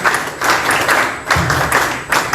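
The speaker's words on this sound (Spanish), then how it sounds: "fuertes palmas para él" An audience at a party event in Peru applauding a party secretary general, with steady close crowd clapping that swells in bursts and continues throughout.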